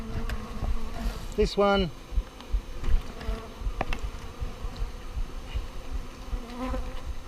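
Honey bees buzzing around an open beehive during a hive packdown, a constant low drone close by with frame handling noises, and a person briefly speaking over it.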